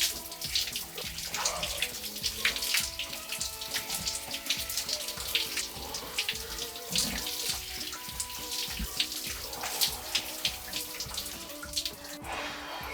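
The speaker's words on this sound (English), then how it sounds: "So we got 1 minute and 10 seconds in the cold shower today." A cold shower runs steadily, water spraying and splashing in a continuous hiss with uneven spatters, fairly quiet and with no voices.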